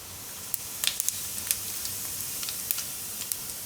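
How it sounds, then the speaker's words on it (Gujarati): Mustard seeds and cumin sizzle in hot oil in a home kitchen, with a steady frying hiss and scattered sharp pops and crackles as the seeds burst, close and moderately loud. "તેમાં આપણે પહેલાં થોડીક રાઈ નાખીશું અને થોડુંક જીરું"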